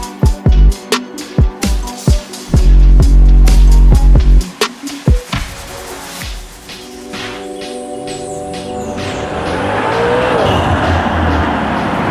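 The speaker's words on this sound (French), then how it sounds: "On s'éclate déjà bien assez avec la sonorité de l'échappement de la voiture." A Maserati Levante Trofeo with a Ferrari-built turbo engine, its exhaust barking through a rapid series of sharp blips and pops, then a sustained loud roar as it accelerates away with some tire noise.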